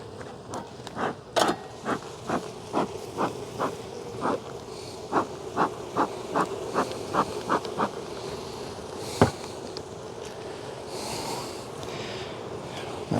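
Honeybees in an apiary on an overcast September day, a low steady hum running underneath a series of soft, regular rhythmic pulses, fairly faint overall, with no talking.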